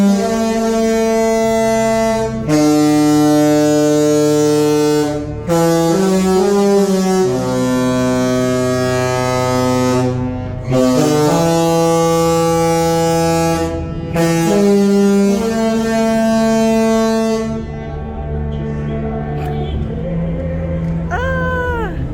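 A deep, loud cruise ship horn sounds a tune in long sustained notes with short breaks, like a tune played across open air at port.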